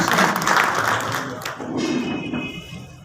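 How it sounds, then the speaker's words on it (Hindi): Applause from a crowd at a BJP Halla Bol political rally in Bhadra swells loudly, then fades into murmuring and a voice over a public address system. "जोरदार तालियों के साथ आपके गंभीर"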